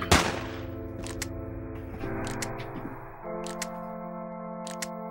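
Pistol gunshots in the NRA Gun Club shooting-range video game: one sharp, loud shot at the start, then a few faint clicks over steady tonal game music.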